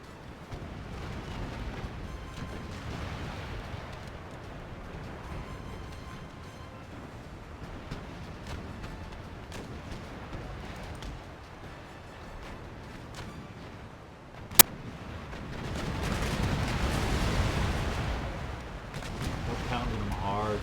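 Warships exchange naval cannon fire in an Empire: Total War sea battle, heard as low distant booms, one sharp crack, then a swelling rumble of several shots.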